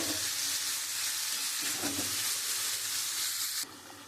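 Spice-coated chicken pieces fry in a hot pan with a loud, steady, close-up sizzle. The sizzle stays dense and even, then drops off slightly near the end.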